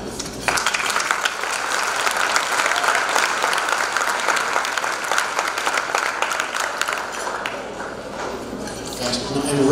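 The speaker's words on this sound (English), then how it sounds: "I want to give her my own special applause" An audience at a Macedonian tribute gala ball in Detroit claps steadily and loudly for about ten seconds, a dense continuous patter of hands filling the hall with some voices mixed in.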